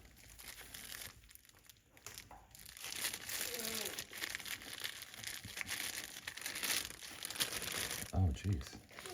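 Plastic cling wrap crinkles and tears as it is peeled off a small fixed-blade knife of 1095 high carbon steel, a steady close crackling that runs on and off throughout while a person talks over it.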